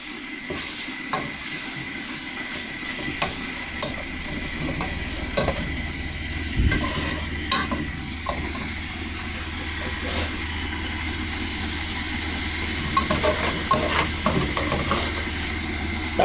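Ground meat browns in a pan for spaghetti, giving a soft continuous sizzle broken by intermittent scraping and clinking stirs, while a person talks over it.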